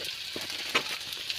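Spices sauté in a pan with softened tomatoes, making a short, steady sizzle with a small crackling burst and no voices.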